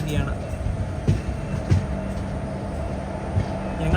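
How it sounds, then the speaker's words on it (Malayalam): An express train pulling into Mangaluru Central railway station, a low rumbling roll with periodic clanks of wheels over rail joints and a faint high tone, heard from on board or close by. "ട്രെയിൻ അങ്ങനെ മംഗളൂരു സെൻട്രൽ റെയിൽവേ സ്റ്റേഷനിലേക്ക് എത്തിക്കൊണ്ടിരിക്കുകയാണ്."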